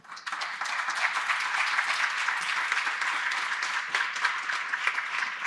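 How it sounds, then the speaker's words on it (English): Sustained crowd applause fills a conference hall at the end of a session of a Spain–Thailand forum, dense clapping from a sizable audience that rises quickly and holds steady throughout. "Please give an applause to the participants."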